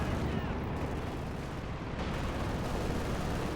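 An artillery barrage in the World War II strategy game Company of Heroes 2 makes a dense, continuous roar of overlapping booms and rumbling impacts that stays loud and steady throughout, with no pause between blasts.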